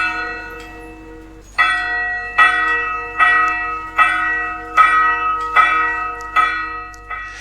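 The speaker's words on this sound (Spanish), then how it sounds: "La muerte es como un repique de campanas." Church bells ring out in a steady series of strikes, each resonant tone ringing on and overlapping the next, clear and fairly close.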